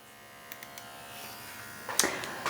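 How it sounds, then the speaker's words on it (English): A Codex wireless permanent makeup and tattoo machine runs as a faint, steady electric buzz, with a needle stroke of 3.4 mm at 5.5 volts. A few light taps and clicks sound over the buzz near the end. "Codex has a minimal vibration and noise."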